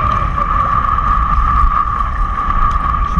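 Heavy, constant wind buffeting the microphone at sea during ultralight fishing in bad weather, a loud low rumble with a steady engine-like hum running underneath throughout.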